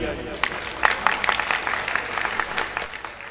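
A crowd at a mela festival speech in Mauranipur gives scattered, moderate applause while a voice carries on over it.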